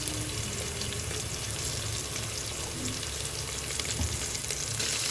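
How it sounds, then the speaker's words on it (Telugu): Ginger garlic paste sizzles and fries steadily in a pan while cucumber dal is being prepared, with a continuous close crackle and no voices. "బాగా ఫ్రై చేసుకుందామమ్మా, కొద్దిగా బ్రౌన్ అయ్యే వరకు."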